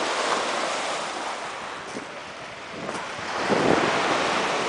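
Sea waves wash over a pebble beach in Nice, making a steady broadband rush with wind noise on the microphone, swelling slightly near the end, no voices.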